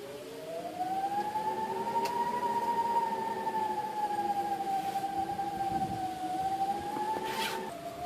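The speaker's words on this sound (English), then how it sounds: "You can hear the wind blowing. It's like whistling." Wind blowing and whistling across the mountain overlook at Pisgah Inn, a steady moderate howl with a sustained wavering whistle-like tone rising and falling throughout, with no talking.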